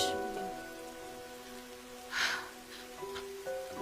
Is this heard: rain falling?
yes